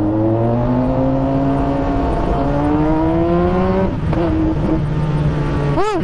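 Cars speed recklessly down a straight road, engines loud and close as they rev and climb through gears, with one vehicle roaring past near the end.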